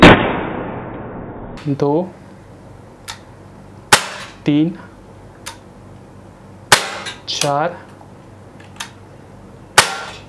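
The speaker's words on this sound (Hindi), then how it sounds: "अब हम पैलेट फायर करते हैं." Shots from a CZ 75 P-07 Duty CO2 blowback pistol firing pellets: several sharp, loud cracks spaced unevenly, some with a metallic slide clack, with someone speaking briefly between shots.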